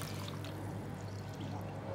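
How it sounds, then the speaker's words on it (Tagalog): Water is poured over chopped vegetables to soak them while cooking chap chye at home: a soft, steady splashing stream runs continuously, quiet and close, with no voices. "Lagyan natin siya ng tubig."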